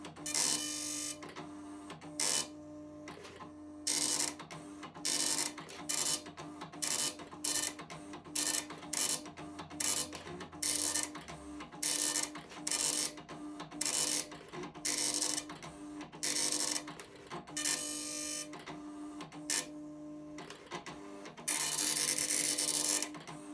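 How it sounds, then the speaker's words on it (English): A retro printer prints out a raw text file of a recipe, its print head chattering in quick bursts separated by short pauses, with a low motor hum under the first half and no voices. "we can send raw text to this printer and it will happily print it out on the page"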